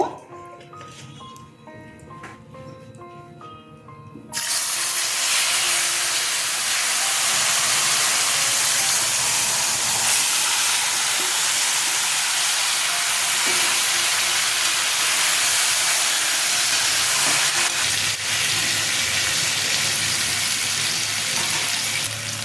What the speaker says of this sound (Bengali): এই দেখুন কচু শাকটা এতে ছেড়ে দেব